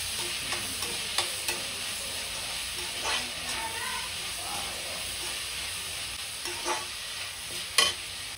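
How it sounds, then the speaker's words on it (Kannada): Diced tomato sizzles steadily in hot oil in a pan while cooking for Uttar Karnataka susla, with soft scraping stirs and small spits now and then over a continuous frying hiss, with no talking. "ಟೊಮೆಟೊನ ಹಾಕ್ಕೊಳ್ಳಿ. ಇದು ಸ್ವಲ್ಪ ಮೆತ್ತಗಾಗೋವರೆಗೂ ಹುರ್ಕೋತಾ ಇರಿ."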